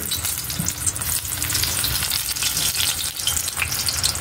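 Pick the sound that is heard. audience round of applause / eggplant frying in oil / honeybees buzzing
eggplant frying in oil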